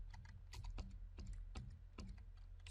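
Quiet, close typing of code on a computer keyboard, with clusters of clicky keystrokes arriving in short bursts separated by brief pauses.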